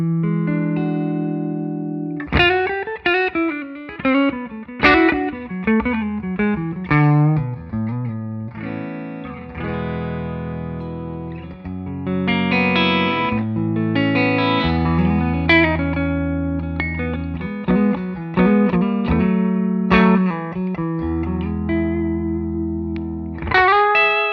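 An electric guitar played clean through the bridge pickup, picked notes and ringing chords in loose phrases with some effects shimmer, loud and close with no talking.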